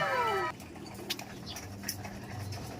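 A large flock of pigeons or doves crowds together while being fed, cooing softly and fluttering with scattered light pecking sounds. A higher call stands out at the start, and quiet voices are faintly present.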